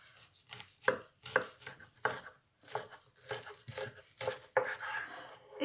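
Sharp knife slicing through California sushi rolls on a board, a series of about ten distinct close cuts in an uneven rhythm, each with a soft crunch.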